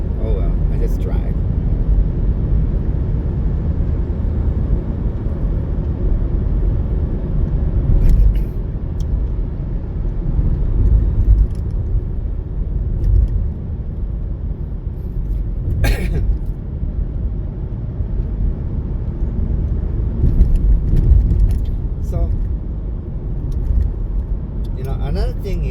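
Steady low road rumble of a car cruising through Honolulu, heard from inside the cabin during a rideshare drive, with a few brief clicks and rattles over a constant engine and tire drone.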